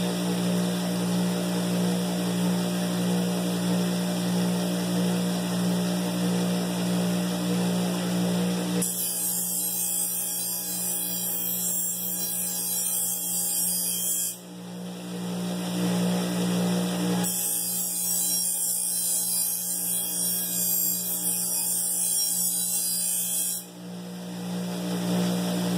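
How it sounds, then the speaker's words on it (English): An 8 inch paper polishing wheel hones a knife edge on a grinder. A constant motor hum and whine runs throughout, with two long stretches of brighter, hissing friction where the blade is held against the spinning wheel. "You'll notice your polishing wheel turns black as you polish the knife."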